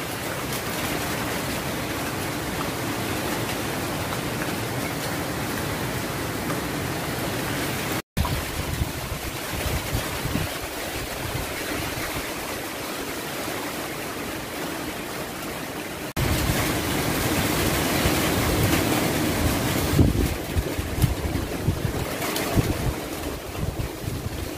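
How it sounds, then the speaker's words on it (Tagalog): Strong typhoon winds of Typhoon Odette at Signal No. 4 in Cebu, roaring continuously and loud against the microphone, with gusting rumble throughout and a heavier surge near the end. "ang lakas pa rin ng hangin guys"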